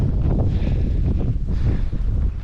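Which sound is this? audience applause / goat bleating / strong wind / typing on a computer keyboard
strong wind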